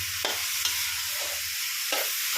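Onion flowers and squid stir-fry in a pan just after a splash of water, producing a loud, continuous hiss broken by four distinct scraping strokes of a spatula.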